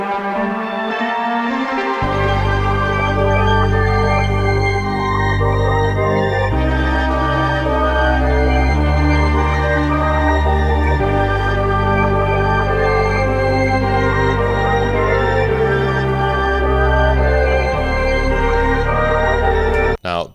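A layered musical run from a sample builds as a crescendo toward the next section, loud dense chords and bass shifting steadily with no talking.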